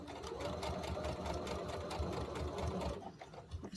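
A domestic sewing machine runs in a steady, rapid mechanical whir while stitching fabric for a sock toy, close and continuous for about three seconds before stopping abruptly, followed by faint handling noise.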